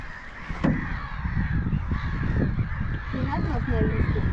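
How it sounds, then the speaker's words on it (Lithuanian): Loud harsh cawing and honking calls from unidentified birds outdoors on a sunny day by a lake, repeated calls overlapping one another close by, with a sharp click early on and a background wash of wind or water. "Aš nežinau, kas čia per paukščiai rėkia"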